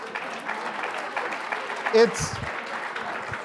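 An audience at a national security panel discussion applauds with steady, dense clapping, and a voice briefly speaks over it.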